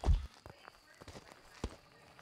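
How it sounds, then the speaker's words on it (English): Soft, scattered footsteps in a ghost-hunting video game, a few light thuds spread across a couple of seconds at low volume, with a louder knock at the start. "I thought I heard footsteps"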